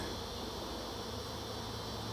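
Honey bees rescued from a condemned building hum steadily as they crawl up into a new hive box, a dense, continuous insect drone close by with no voices.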